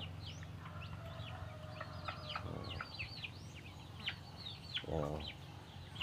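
Hens cluck and call in a farmyard, a series of quick, close chirping clucks rising and falling over a low background, with a louder throaty burst near the end.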